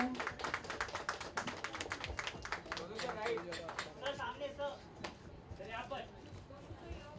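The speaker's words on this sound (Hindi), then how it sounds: "जोरदार तालियां हो जाए" At a book launch event, a crowd applauds with dense, rapid clapping that thins out after a few seconds, as voices talk over and after it.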